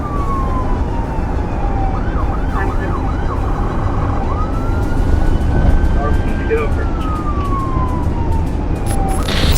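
A police car siren wails through a high-speed chase, sweeping up and down in long cycles with quick yelping bursts in between, loud over road and engine noise with voices faintly underneath.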